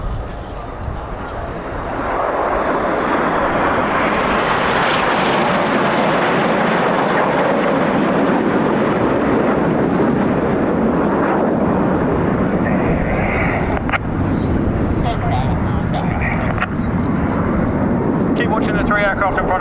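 Red Arrows Hawk jets fly a head-to-head pass at the RAF Cosford Air Show, a loud sustained jet roar swelling after a quieter start and filling the whole stretch while a commentator talks over it.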